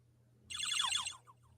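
A Game Boy ringtone plays a quick run of bright electronic chiptune notes, about three-quarters of a second long, followed by one short fainter blip, over a low steady hum.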